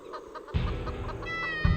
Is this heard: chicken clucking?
yes